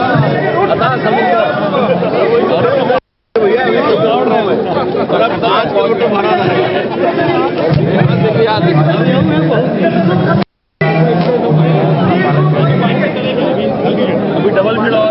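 Dense crowd chatter at the Run for CG Pride charity run: many overlapping voices form a steady, loud babble throughout, broken by two brief silent gaps.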